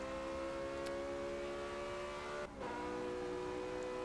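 A Porsche race car engine in Forza 6 holds a steady high drone at near-constant revs, with a brief dip midway, loud and free of talk.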